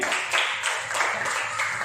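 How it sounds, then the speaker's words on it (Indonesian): A crowd at a morning training session claps in a steady, dense patter of applause lasting a couple of seconds, fairly close and even in volume. "tepuk tangan dulu untuk pagi hari ini"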